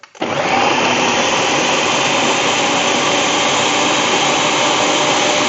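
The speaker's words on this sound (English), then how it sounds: "then let's get it blended. Might get a little bit noisy for a minute." A blender purees gazpacho soup, starting abruptly and then running as a loud, steady, high-pitched whirring drone that continues without pause.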